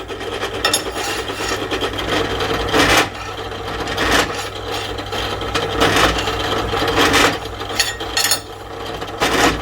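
Metal is deburred by hand filing on parts for an engine stand, a loud, close rasping scrape that runs almost continuously with brief strokes and pauses.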